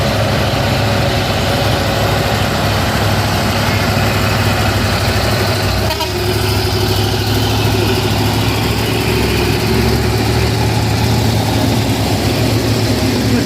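A Hino truck engine labouring on a steep hill climb at Bukit Kodo, a loud, steady low diesel drone with heavy vibration that continues without a break, close by and with no talk over it.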